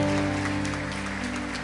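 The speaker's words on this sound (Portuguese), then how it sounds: "Aplauda esse Deus em nome de Jesus." A church congregation applauds in a dense, steady wash of clapping, with sustained keyboard tones holding underneath throughout.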